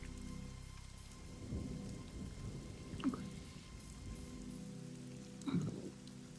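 Steady rain pours in a video game thunderstorm, with two distinct rumbling thunder crashes standing out above the constant downpour; no voices are heard.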